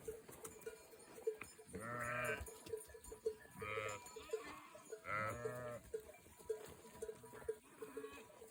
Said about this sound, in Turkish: Koyunlarımız hepsi burada arkadaşlar gördüğünüz üzere